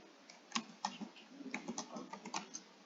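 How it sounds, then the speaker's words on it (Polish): Quick keystrokes click on a computer keyboard as a name is typed, a close, quiet run of irregular taps with short pauses between bursts. "Dobra, wpisujemy moją nazwę."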